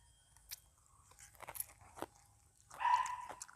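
Crispy Thai fried pork belly (moo krob) eaten with papaya salad, giving a few sharp, close crunches spaced apart in quiet surroundings, followed by a short tonal voice-like sound near the end.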